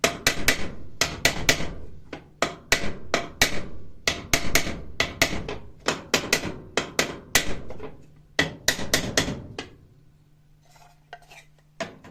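Rapid, sharp taps of a small hammer in irregular bursts while assembling a flower stand, close and crisp, thinning out toward the end with a faint hum.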